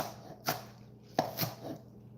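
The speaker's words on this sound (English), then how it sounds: "So I'm just chopping up my green onions." A knife chops green onions on a cutting board for homemade chicken chili, with a few sharp, close taps spaced unevenly across a quiet background.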